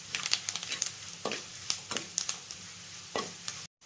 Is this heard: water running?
no